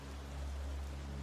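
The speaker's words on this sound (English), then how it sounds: "The sound of flowing water grows nearer with every step, mingling with the steady rain." Steady rain falls on a rainy night in the woods, mingling with water flowing nearby, a continuous dense hiss with a low rushing rumble underneath and no talk.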